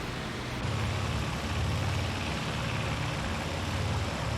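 A biplane engine drones in the IL-2 Great Battles flight simulator, a steady low rumble with a pulsing throb that swells and eases slightly throughout, heard alone.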